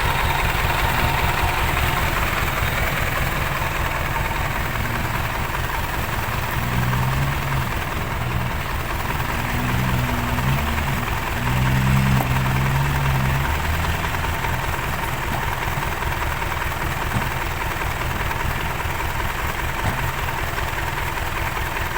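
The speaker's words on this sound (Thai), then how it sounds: "แมคโครมาแล้ว นะ" Backhoe excavator engine idling at a land-filling job in a rural Thai village, a steady, fairly loud diesel rumble with faint knocking that runs unbroken throughout, no talk.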